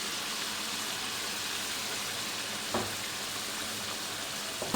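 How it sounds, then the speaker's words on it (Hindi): Ground spices (red chili, turmeric, garam masala, cumin, coriander) frying in a pan for potato chicken curry, giving a steady, loud, close sizzle throughout with a couple of brief stirring scrapes. "अच्छी तरीके से मसालों में भून लेंगे।"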